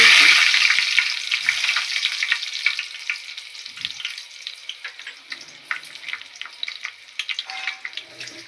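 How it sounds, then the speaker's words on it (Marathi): Mustard seeds, cumin and garlic crackling in hot oil for a cashew vegetable dish, loud at first then settling into sharp scattered pops and spits, close by with no talking. "मोहरी आणि जिरा टाक थोडासा गरम झाल्यानंतर आपण टाकणार त्यात आपण लसूण टाकायची"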